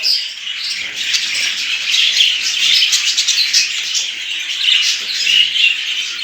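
Budgerigar chicks and adult budgies chirp and chatter constantly inside an aviary, a dense, close flock of high twittering calls with no pauses.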